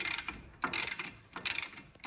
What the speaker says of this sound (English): We tighten pretty good the bolts which are holding it.